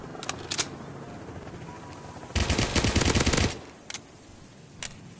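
Gunfire in the Commando Shooting video game: a few short isolated shots, then a sustained dense automatic burst lasting about a second, followed by two more single shots, with no talking.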